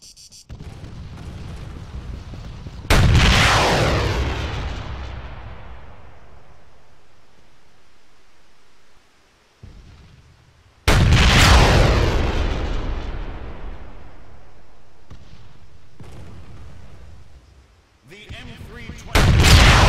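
Gunfire from a 6.5 mm assault rifle in the military game Arma 3: a few loud, sharp shots with long booming echoes that fade slowly, separated by quieter stretches.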